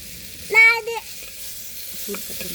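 Vegetables such as beetroot and carrot tossed into a hot pan, with a short, loud sizzle and stirring burst near the start followed by a quieter, low crackle, and a voice briefly calling out.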